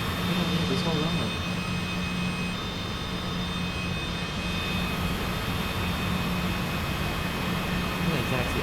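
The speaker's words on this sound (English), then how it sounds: "I'm gonna taxi all the way down to the end" A jet airliner taxis along the runway on the way from Seattle to Alaska, a loud steady engine roar with a constant whine throughout, heard from inside, with a voice talking over it.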